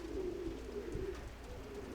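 Pigeons in a dovecote give soft, low cooing calls that run steadily and faintly throughout, with no voices.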